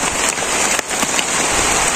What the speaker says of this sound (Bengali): আবার এই বৃষ্টি আরম্ভ হয়েছে, বড় বড় ফুটা একবারে